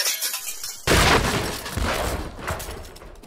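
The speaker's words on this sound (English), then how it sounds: "It sounds like glass breaking again." Glass shatters loudly inside a Minecraft house at night, a sudden crash followed by a few seconds of crumbling, tinkling debris that slowly fades.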